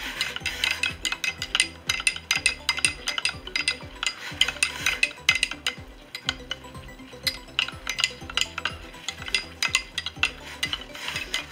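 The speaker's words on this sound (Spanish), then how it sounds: "Comenzó a hervir, lo muevo por 10 minutos." A spoon stirs a boiling gelatin face-mask mixture in a pot, scraping and clinking against the metal in a steady, repeated rhythm close by, with a faint bubbling sizzle underneath and no voices.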